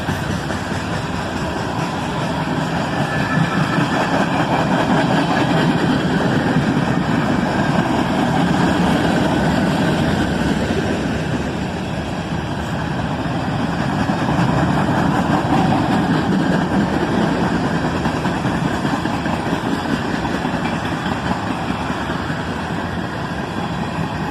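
Mixed manifest freight trains with many tank cars roll past on the track, a long, loud, continuous rumble of heavy wheels and locomotive engine noise, swelling and easing slightly over its length.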